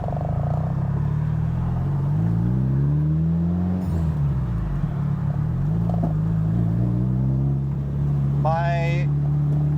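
A Honda CRX engine idles at a red light, a steady low rumble with its pitch shifting gently, under someone talking throughout.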